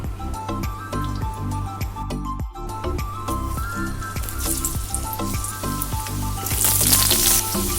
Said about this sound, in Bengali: কড়াইতে সাদা তেল দিয়ে আমি এবারে সবার প্রথমে আলুটা ভেজে নেব